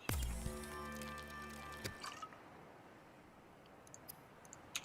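Drinking bottled water in the video game Subnautica: an opening burst of liquid-like glugging and tonal game effects lasting about two seconds, then quiet ambient hiss with a few faint clicks.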